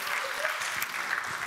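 Sparse, thin applause from a conference audience at the closing of a Java developer event, a brief patter of scattered claps at moderate distance.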